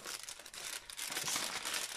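A 5-euro banknote slid into a paper envelope gives a soft, close crinkling and rustling of paper, quiet and continuous for a couple of seconds, with no voices.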